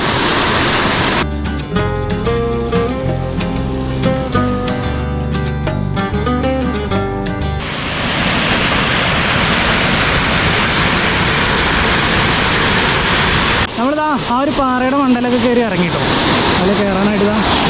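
Thoomanam waterfall in Thrissur rushes over rocky steps in a loud, steady roar, heard clearly on its own in the middle and partly covered by music before and after.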